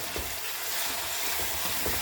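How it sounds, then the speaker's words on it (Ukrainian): Carrots fry in hot oil in a pan while pilaf is being cooked, giving a bright steady sizzle with a few soft stirring scrapes, close and clear with no talking. "І теж обсмажую трішки морку."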